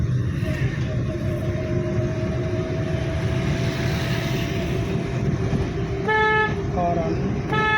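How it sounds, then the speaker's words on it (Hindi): A car horn honks a few short times near the end, over steady road rumble and traffic noise with talking in the background. "हॉर्न"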